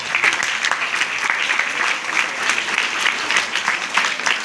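Students in a school gathering applaud together, a dense, steady wash of many hands clapping at once, close and lively, holding at an even level for several seconds with no one talking over it.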